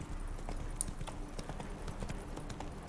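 Geralt's horse Roach clip-clops in The Witcher 3, a steady run of hoofbeats on hard ground at moderate distance, faint rhythmic and continuous, with no talk.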